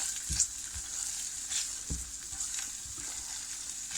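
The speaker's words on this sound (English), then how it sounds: "take my handy dandy spatula, give it a nice little stir" Tomato sauce being stirred with a spatula in a pan, soft scraping strokes and low knocks over a steady background sizzle, fairly quiet with no talking.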